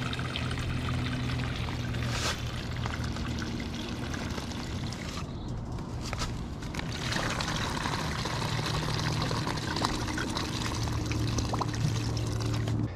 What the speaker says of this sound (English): the water that I add into these containers will not become stagnant